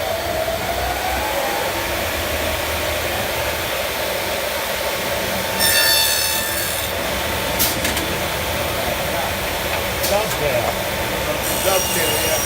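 Homemade woodworking machine cutting dovetail joints, a loud steady roaring hum with harsh grinding and occasional high squeals, running throughout in a workshop.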